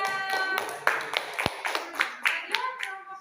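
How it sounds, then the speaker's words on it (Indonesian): A small classroom group gives a short burst of scattered hand clapping, close and lively, with a few sharp claps standing out and faint voices mixed underneath. "terima kasih, tepuk tangannya."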